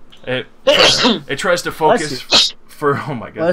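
A person sneezes once, sharply and close by, during a Dungeons & Dragons tabletop session. Steady conversation runs before and after the sneeze.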